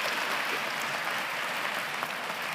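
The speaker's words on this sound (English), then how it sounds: "Let's just clap." A crowd claps together in a brief, steady burst of applause, evenly dense and fairly loud from start to finish with no voices standing out.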